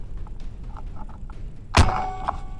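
An RPG-7 fires in a single sharp, loud blast about two-thirds through, with a brief ringing tail, after a stretch of quiet low rumble and faint background sounds.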